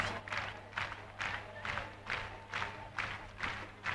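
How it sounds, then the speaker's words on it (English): A diving arena crowd at the 2005 World Aquatics Championship men's 3m springboard final stamps and claps in a steady rhythmic pulse, roughly two beats a second, over a constant low hum and crowd murmur. "Stamp your feet, clap your hands"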